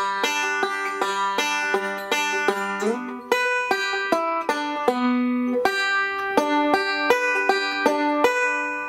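Bluegrass banjo plays a transition up the neck, ending in a roll, with bright plucked notes in a steady rolling rhythm that rings close and clear, unaccompanied.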